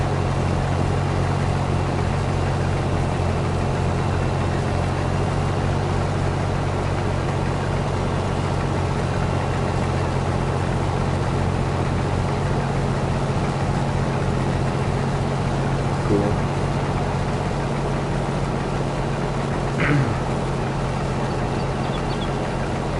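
In Farming Simulator 22, a tractor engine works through a barley harvest with a constant low, droning hum that holds steady throughout, with no talk.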